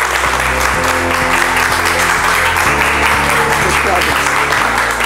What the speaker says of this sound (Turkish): Estetik ve plastik cerrahi uzmanı Doktor Aylin Kurt alkışlarınızla geliyor.